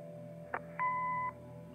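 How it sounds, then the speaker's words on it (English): A short electronic answering-machine beep in the video game Kathy Rain: a brief click, then a single clean sustained tone lasting about half a second, heard alone over a faint background hum. "Leave a message after the beep."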